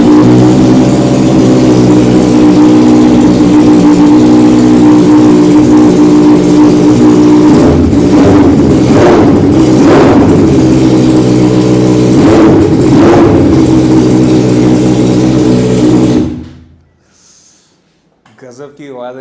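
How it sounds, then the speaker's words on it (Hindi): A Benelli 600i motorcycle with a 4:1 exhaust revs loud and close, holding a steady throaty idle before several sharp throttle blips, then cutting off abruptly into near silence. "4:1 एग्जॉस्ट बेनेली 600i में कैसा साउंड करता है"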